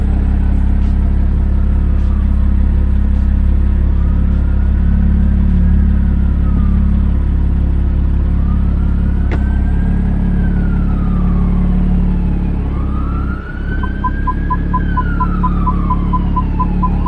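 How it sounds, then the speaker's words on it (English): A BMW F30 335i idles steadily with a loud, constant low rumble, and a few faint higher tones rise and fall over it, with no one talking. "you go ahead and start your car and put it through all the gears"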